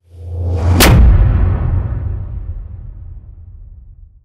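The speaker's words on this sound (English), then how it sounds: "we're gonna take a look at how we can create a whoosh hit that sounds like this" A cinematic whoosh hit: a rising rush builds for under a second into a sharp, heavy impact, then a deep booming tail fades slowly over the next few seconds.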